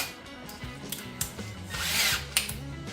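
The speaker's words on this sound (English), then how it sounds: "we're going to very carefully use this countersink drill, center drill" A countersink center drill bores a hole at a workbench during a big-block engine kit install. It gives a close, steady motorized whine with humming harmonic tones and a few sharp bites and surges, with no talking.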